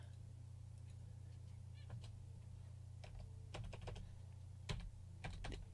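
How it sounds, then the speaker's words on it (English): Computer keyboard keys pressed repeatedly, faint scattered clicks in irregular bursts and short clusters over a steady low hum, with no talk. "What is going on with my keyboard?"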